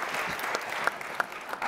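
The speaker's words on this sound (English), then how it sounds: "A round of applause for Minister Harrison." Brief, diffuse applause from the audience at a high-level debate at the Global Forum for Food and Agriculture 2023, steady and moderately loud, with a few sharper individual claps standing out.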